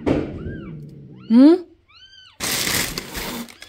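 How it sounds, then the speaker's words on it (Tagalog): Several small high-pitched meows from kittens, one louder longer cry among them, followed by a burst of broadband noise. "Nandito lang pala ang mga kuting muming."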